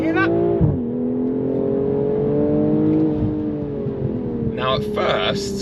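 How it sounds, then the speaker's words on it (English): A BMW M440i Gran Coupe xDrive launches hard, its OPF-filtered exhaust rising through the revs, dropping on an upshift and climbing again, with a burst of crackles and pops near the end, loud and close. "there is some cracks and pops that come out of the heavily OPF filtered exhaust"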